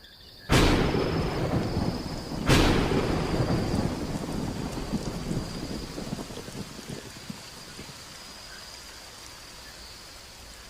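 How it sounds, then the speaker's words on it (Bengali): Heavy cartoon rainstorm with two sharp, loud thunder cracks early on, followed by a steady wash of pouring rain that slowly fades, with no voices. "বাহিরে প্রচুর বৃষ্টি হচ্ছে"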